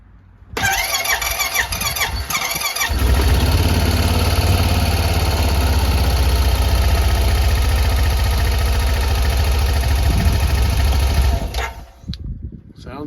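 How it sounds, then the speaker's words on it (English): A Honda Pioneer 700 side-by-side engine, freshly valve-adjusted, cranks over and catches, then idles steadily and loud up close for several seconds before shutting off, with a faint voice near the start. "I'm going to start it up and just make sure I don't hear any excess ticking noise or anything weird from inside the engine"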